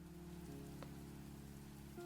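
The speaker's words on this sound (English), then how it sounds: "The sound of pen and on paper mixed in with the patter of the rain" Soft, steady rain patters continuously on a surface in a quiet indoor scene, faint and even throughout with no voices.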